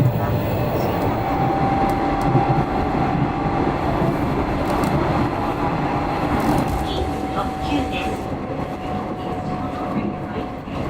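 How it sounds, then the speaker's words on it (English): Steady rumble and rattle of a train carriage riding the rails from Fukuoka to Yanagawa, Japan, with a faint high whine running through, continuous and moderately loud throughout. "We're on the train to Yanagawa"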